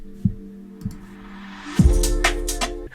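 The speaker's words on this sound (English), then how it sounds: "we got a little sweep down here that just sounds like this." A synth tone glides downward over a UK garage beat with low thumping kicks and bright hats, the sweep sliding smoothly into the mix.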